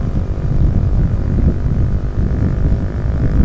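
A standard motorcycle engine drones while riding near Jakabaring, a loud, steady low roar mixed with rushing wind that stays constant through the whole stretch, with no voices.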